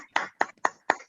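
Four sharp, evenly spaced hand claps ring out up close in a welcome for Sovindra Poswal from Moradabad, each a crisp isolated smack with brief silence between.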